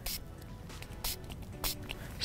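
A hand spray bottle mists yellow amino additive onto a pike deadbait, giving several short, sharp hissing spritzes close up in a quiet setting.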